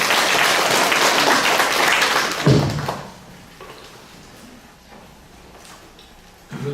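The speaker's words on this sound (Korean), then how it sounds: "큰 박수로 모시겠습니다." At a Korean Catholic symposium, an audience gives a speaker a hearty round of applause for about two and a half seconds. A heavy thud follows, then a quiet room with faint shuffling and a final knock.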